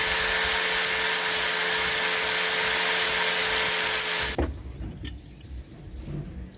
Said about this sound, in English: I'm just going to use the sanding disc. This is like a 60 grit sanding disc.